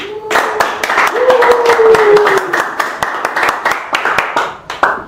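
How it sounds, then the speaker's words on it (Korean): An audience claps to welcome a lecturer to a special guest lecture. Dense, steady applause fills the whole stretch, with a voice or tone sounding over it part of the way. "이제 유대원 박사님 나오실 때 우리 박수로 환영하겠습니다."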